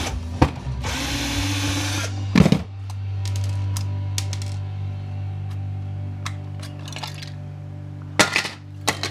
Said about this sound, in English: I'm gonna cry the day my drill quits and I end up having to scrap my drill.